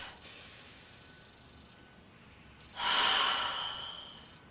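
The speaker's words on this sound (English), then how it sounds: "Okay, deep breath." A single deep breath drawn in and let out during an EFT tapping session on the fear of asking for money, a soft airy rush after a quiet stretch, close and alone.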